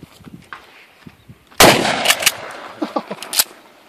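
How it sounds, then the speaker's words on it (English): A 12 gauge shotgun fires a Rio Royal 2 3/4 inch #4 buckshot load of 21 pellets outdoors: a single loud, close blast with a sharp crack and rolling decay, preceded by faint handling noise and followed by smaller knocks. "I'll shoot a little lower so you guys will see that."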